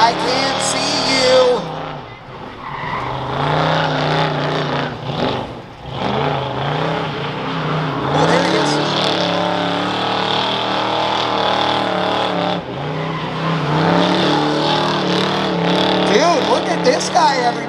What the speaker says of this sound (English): This is the 440 that doesn't even hardly have to work hard to destroy a set of tires.